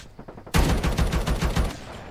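Rapid automatic gunfire in the Call of Duty video game erupts after a quieter half-second lead-in and keeps up a loud, steady burst of repeated shots for the rest of the clip.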